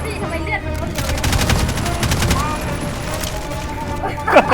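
Rapid bursts of gunfire sound in the Roblox Jailbreak video game, a dense, loud fusillade of overlapping shots. Excited voices are heard in the middle of the exchange.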